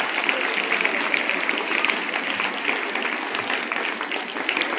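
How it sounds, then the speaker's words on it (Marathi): Audience at a school farewell ceremony for tenth and twelfth grade students claps in a sustained, dense burst of applause filling the hall, steady throughout. "तुमच्यासाठी तुम्ही टाळ्या वाजा"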